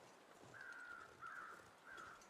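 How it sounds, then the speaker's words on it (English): Three distant, faint crow caws in the video game The Long Dark, evenly spaced over a quiet ambient background. "there's also some crows"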